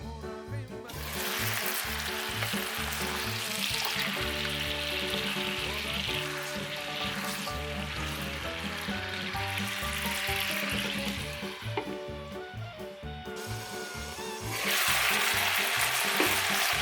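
Chicken steak fries in a covered pan after a splash of water is added, producing a dense, steady sizzle and bubbling that surges louder toward the end, with background music underneath.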